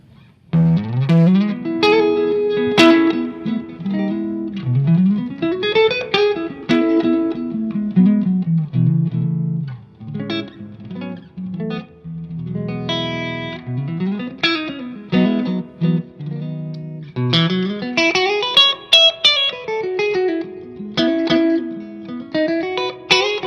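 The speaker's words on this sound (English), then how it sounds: "This is a high headroom clean amplifier that is it's really based in the Fender family" Electric guitar playing chords and short melodic runs through a Morgan high-headroom clean tube amplifier with 6L6 and 12AX7 tubes, with a wet built-in reverb tail ringing behind each phrase.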